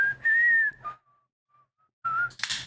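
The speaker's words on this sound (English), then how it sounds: "You have a good whistle." A person whistles a clear, tuneful melody with vibrato, a sustained phrase followed by a few faint, broken notes and a brief pause, then a louder return ending in a breathy burst, alone without talk.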